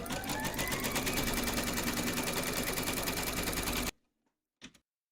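An embroidery machine stitches the placement outline of a quilt pattern, with a fast, steady mechanical rattle running for about four seconds. It stops abruptly, leaving near silence broken by one faint click.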